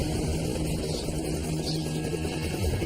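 A helicopter flying low over a stunt produces a steady, dense rotor and engine roar that holds at an even, loud level throughout, with no pause.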